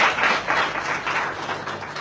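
A crowd claps in a continuous, dense patter of many hands, fairly loud and close, holding steady for a couple of seconds with no voices over it.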